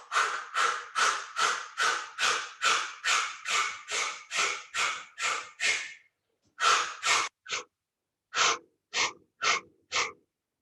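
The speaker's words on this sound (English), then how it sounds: "So I'm breathing in." Forceful rhythmic belly-pumping breaths in a yoga session, about a dozen sharp nasal exhalations in a steady fast run, then a pause and a few slower spaced bursts, close and alone.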